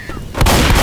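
Grenade blast in Left 4 Dead 2: after a brief quiet moment a single loud, close explosion erupts with a sharp crack and a broad rumbling body.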